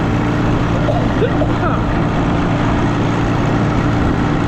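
An Allis tractor engine pulling a grain drill, a steady loud low-pitched drone running continuously and close up with no pauses.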